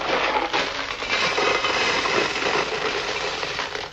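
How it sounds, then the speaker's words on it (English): A box of gravel is shaken as a sound source, giving a continuous dense rattling hiss of small stones that stays loud and steady throughout, with no voices. "What have we got here? Box of gravel."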